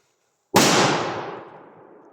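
A single Dumbum middle firecracker explodes in a forest with a sudden loud bang after half a second of silence, followed by a long echoing decay through the trees.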